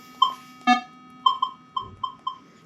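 A Minelab Manticore metal detector gives a quick run of sharp electronic beeps, two stronger tones then a steady string of short pulses over a faint constant hum.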